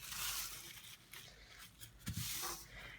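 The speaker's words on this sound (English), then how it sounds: "And then we're going to fold it again." A plastic bag is folded by hand, giving soft crinkling and rustling with a couple of sharper crackles, close and quiet with no talking.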